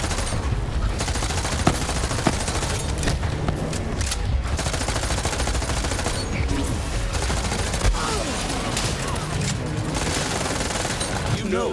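Relentless gunfire in the Borderlands 3 game, with rapid automatic bursts and heavy shots layered into a dense, loud barrage that barely lets up, while voices call out over the din.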